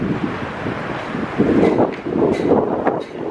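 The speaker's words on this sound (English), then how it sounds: "too windy to put the camera in front of the legislator" Heavy wind buffeting a microphone outdoors, a continuous low rumbling roar that swells and gusts, loud and close, with no one speaking.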